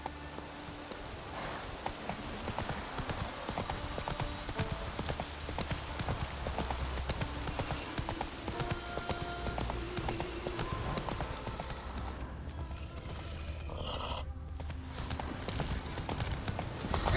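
A horse clip-clops at a steady gallop across the ground in The Witcher 3: Wild Hunt, with the hoofbeats continuous and close over a soft rain-like background hiss.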